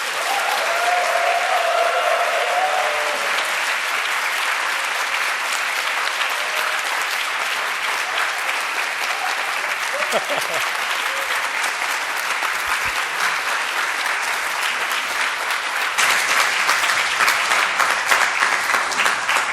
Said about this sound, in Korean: 큰 박수와 환호성 부탁드리겠습니다.